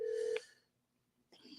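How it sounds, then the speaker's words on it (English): A telephone sends a single short dialing tone, then a brief pause before a ringing tone starts up, clear and close with no talk. "Let me try to call this guy again."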